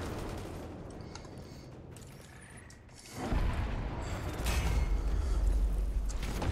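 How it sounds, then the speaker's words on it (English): Gunfire from Destiny 2, a hand cannon fired in competitive play, breaks in around the midpoint as loud broadband bursts over continuous game noise, with rapid overlapping shots and rumbling booms filling the second half. "I want to shoot people in the head."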